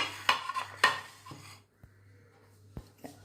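A knife cuts peeled plantain into pieces on a board for ethakka appam, giving a few sharp close taps and clicks spaced unevenly, with quieter gaps between them and no talking.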